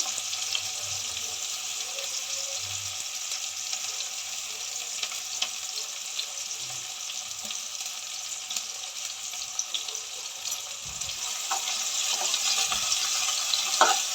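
Chopped onion frying in a pan until brown, a continuous bright sizzle held steadily at moderate level, with occasional soft stirring knocks and clicks, no talking.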